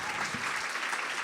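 A live comedy show audience in Montreal applauding: a dense, continuous wash of clapping from a large crowd, loud and steady for about a second.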